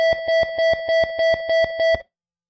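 Municipal fire alarm automation software sounds its fire alarm alert tone: eight rapid, loud, evenly spaced electronic beeps over about two seconds, then silence.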